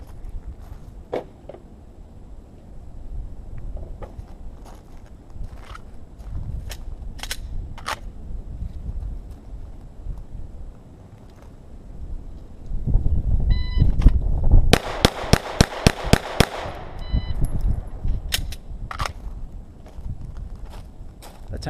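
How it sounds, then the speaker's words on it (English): Seven pistol shots fired in quick succession in a timed shooting drill ring out loud and sharp and evenly spaced. Scattered quieter clicks and handling noise surround them. "All right, let's go to 7 shots."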